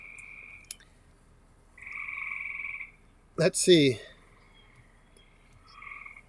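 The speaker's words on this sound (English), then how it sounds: "Where can you guys hear those tree frogs croaking?" Tree frogs croak in sustained trilling bursts that repeat at intervals, moderately close and clear over a quiet background, with a brief spoken phrase in the middle.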